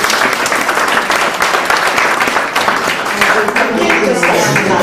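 Audience applause at an Italian association event, dense steady clapping filling the space for about five seconds with no talk over it.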